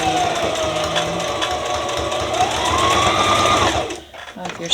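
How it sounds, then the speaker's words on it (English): A sewing machine stitches back over a fabric strap with a steady, close mechanical whir whose pitch drifts with speed, then slows and stops near the end as someone speaks over it. "I'm going to just sew over that area again."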